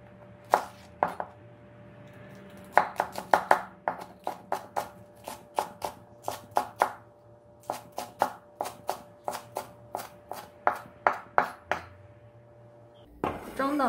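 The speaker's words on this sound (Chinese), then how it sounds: "2颗小葱切成葱花。" Knife chopping two green onions into small pieces on a board, a fast run of sharp close taps in bursts with short pauses, ending in a louder clatter.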